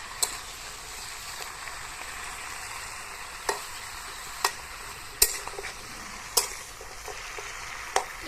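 Taro with potato, pumpkin and Malabar spinach fries in a pan as a spatula stirs it, giving a steady, close sizzle broken by sharp utensil scrapes and knocks every second or so.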